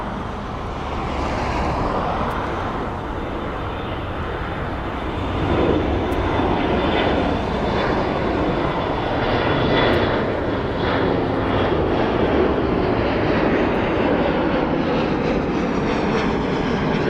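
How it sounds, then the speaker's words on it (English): An aircraft taking off at East Midlands Airport, a loud, steady jet engine roar that builds and holds for the whole stretch, with no talking. "Got an aircraft taking off."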